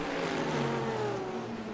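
GT3 race car engines in the rFactor 2 sim racing game at Brands Hatch, a steady droning roar with a sustained engine pitch holding throughout, fairly quiet and without voices.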